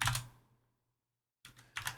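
A short burst of computer keyboard keystrokes, then a second of silence before more quick clicking resumes, close and fairly quiet.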